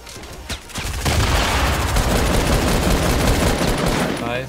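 A burst of rapid Fortnite gunfire erupts after a single shot and keeps rattling continuously, loud and dense, with a faint voice underneath.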